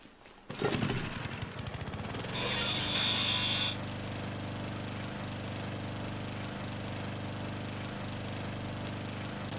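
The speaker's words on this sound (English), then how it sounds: "There's a lawnmower. Can I use that?" An engine drone from a lawn mower in the video game Dead Rising starts abruptly and keeps up a loud, steady hum, with a brief higher whine partway through before settling back to a constant buzz.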